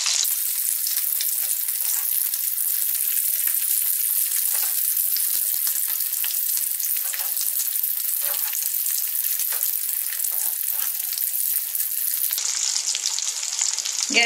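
Eggs for Bengali egg devil (dimer chop) frying in hot oil while being turned, a dense steady sizzle running continuously and close, with a brief shift in texture near the end.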